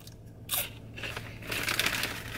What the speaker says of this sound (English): got the cinnamon swirls. Are they good? Oh my God. I didn't expect them to be so crunchy.